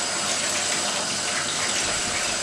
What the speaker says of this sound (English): So I'm going to rinse it thoroughly.